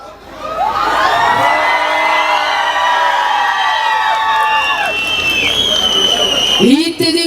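A concert audience at a Turkish folk music show in Maltepe cheers, whoops and shouts continuously, a loud dense crowd roar with high-pitched yells sustained for several seconds before tapering off.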